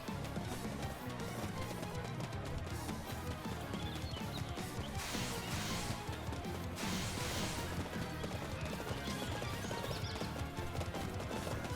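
Horses gallop during a Fire Emblem Three Hopes battle, with continuous hoofbeats and neighs buried in a dense wash of game combat noise and music.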